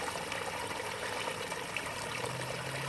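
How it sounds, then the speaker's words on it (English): Clear, ice-cold mountain stream water in the White Mountains on the Appalachian Trail trickles and burbles close by in a steady, unbroken wash with no talking. "White Mountain water, crystal clear water."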